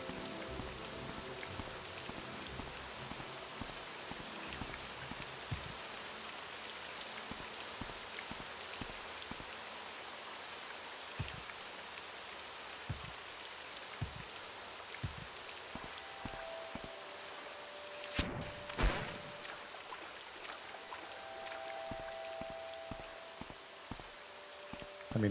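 Rain falls in the video game Morrowind, a steady soft hiss of drizzle with scattered drop taps and one brief louder burst near the end, with no voices.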